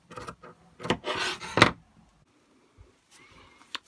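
Scissors trim lace on a doll's ball gown, a Barbie dress being remade in Bratz style, with a few quick, crisp cutting rasps close by, then near silence broken by faint clicks.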